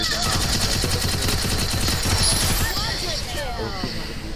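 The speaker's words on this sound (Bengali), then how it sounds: "আমাদের কাছে একে ফর্টি সেভেন আছে" Rapid AK-47 bursts in a video game rattle loud and close in quick repeated volleys, mixed with other game sounds, while a voice talks over the shooting.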